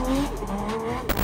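A Nissan 350Z with a 1JZ engine drifts, its tires squealing loudly in a sustained tonal screech under engine roar, ending with a brief abrupt burst of noise.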